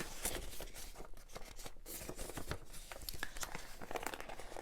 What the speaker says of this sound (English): Folding that on that fold, folding it on my fold